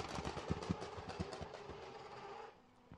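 Joon Maeng's Wankel rotary engine sputtering and banging at a drift battle, a rapid irregular string of pops and crackles fading into a low idle, heard faintly from a distance.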